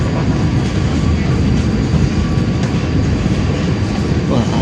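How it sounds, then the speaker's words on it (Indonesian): Commuter train in emergency formation pulling out of Surabaya Pasar Turi station, a loud continuous engine drone and rolling rumble filling the space steadily from start to finish. "kita berangkat meninggalkan stasiun Surabaya Pasar Turi"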